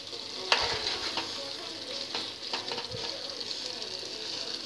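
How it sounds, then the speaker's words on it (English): Sausages and vegetables sizzling steadily in a pan, a loud continuous frying hiss with a few stirring scrapes and clicks, heard close. "you add the sausages, cover it up and let it simmer"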